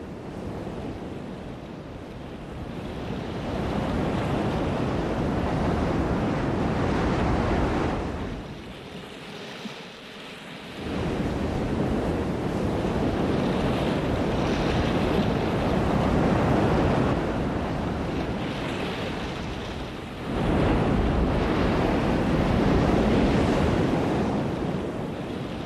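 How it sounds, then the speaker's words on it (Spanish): Roaring waves of the Galician Atlantic Ocean crash in long, loud surges with wind buffeting the microphone, easing briefly between breakers before rising again, with no voices present. "este mar Atlántico gallego que cada cierto tiempo se revela como un monstruo rugiente y temible"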